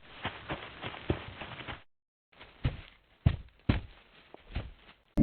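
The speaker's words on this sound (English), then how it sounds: "Daniel and Onion make a sound cue when they leave their doors" In Five Nights at Yoshi's, a short series of irregular knocking footstep-like thuds as a character leaves its door, a brief silence, then more uneven clomping steps, faint and somewhat muffled.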